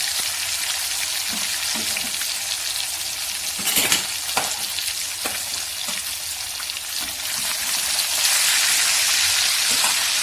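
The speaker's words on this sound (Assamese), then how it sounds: "প্ৰথমতে মাছকেইডোখৰ ভাজি লৈছোঁ" Fish sizzles and crackles in hot oil, a loud continuous frying hiss with occasional sharper pops and stirring clinks, no talking.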